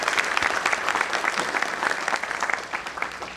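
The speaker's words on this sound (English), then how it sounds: "So please give him a warm applause to begin with." Steady applause from an audience at a public lecture, dense clapping filling the room at an even level throughout.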